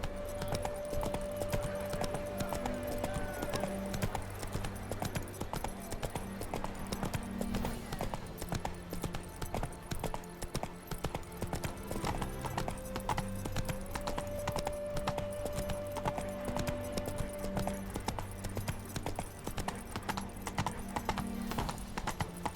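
Horse hooves gallop in a steady clip-clop rhythm through the Witcher 3 game world, continuous and fairly close, with a music bed and occasional faint game sounds underneath.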